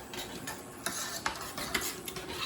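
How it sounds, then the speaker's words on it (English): A spoon stirs veggie bolognese in a pan, several soft scraping strokes and light clinks against the metal over a faint sizzle, close and quiet. "so let's stir all that around"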